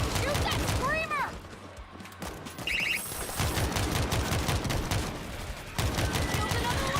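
Rapid automatic gunfire rattles in dense, loud bursts as players shoot a screamer zombie in World War Z, with a short lull midway and voices talking under the shooting.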